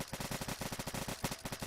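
In Fallout 4, a Ruger AC-556 rifle fires a fast, evenly spaced burst of shots, a tight rhythmic rattle at fairly low volume with no talking.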